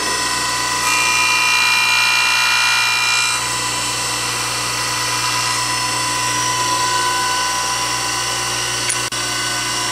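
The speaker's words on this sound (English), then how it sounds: "and then I'll run through the grind." Grinding a grooving boring bar on a tool grinder: a continuous, steady high-pitched whine of the abrasive wheel against metal, loud and close, slightly louder at first, with a brief click near the end.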